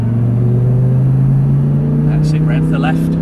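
An Audi R8 on the Silverstone circuit pulls hard under power, a loud steady engine drone with rising pitch filling the cabin as someone speaks briefly near the end.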